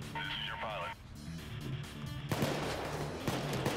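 A shotgun fires in Payday 2 with a sharp broadband blast partway through, followed by another burst near the end, over game music and ongoing speech.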